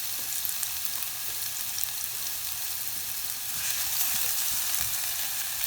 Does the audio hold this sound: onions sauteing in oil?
yes